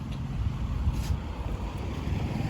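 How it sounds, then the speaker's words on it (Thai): Outdoors after rain, a steady gusting wind rumbles and buffets against the microphone, loud and continuous, with no talk. "ลมมันพัด"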